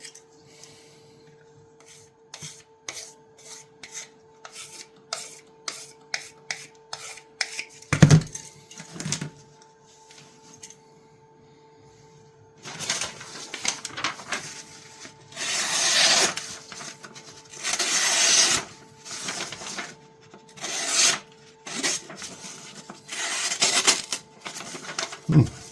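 A Richards pocket knife blade is stroked against a sharpening surface in bursts of dry rasping rubs, first quick and light, then heavier, longer scrapes; close and fairly loud with no talk.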